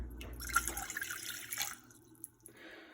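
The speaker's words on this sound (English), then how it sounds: "We're gonna pour in my 1 1/3 cup of water," Water, about 1 1/3 cups, splashes and trickles into a saucepan for about two seconds, followed by a few light drips and clinks.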